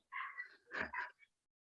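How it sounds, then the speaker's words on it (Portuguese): A dog barks somewhere off in the distance, a short series of faint, muffled yips and barks heard through a room during a quiet online conversation. "¿Te escuta um cachorro aqui?"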